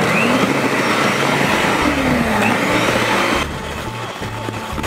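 Electric mixer beating cake batter for a tape and kenari cheese sponge cake, a steady whirring motor drone running throughout at close range, easing slightly near the end.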